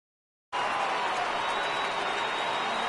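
A baseball stadium crowd in the video game MLB The Show rises into a loud, steady roar of cheering and clapping that starts abruptly and holds at full strength to the end, with no talk over it.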